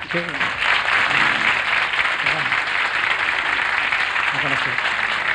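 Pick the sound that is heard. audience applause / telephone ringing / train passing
audience applause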